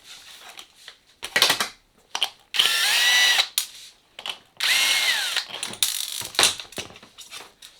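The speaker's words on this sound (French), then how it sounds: "couper ici en dessous à la disqueuse" Angle grinder cutting beneath the bumper of a Rustler 4x4 RC car in a workshop, heard as several short and longer bursts of harsh high-pitched whine and metallic rasp separated by quiet gaps.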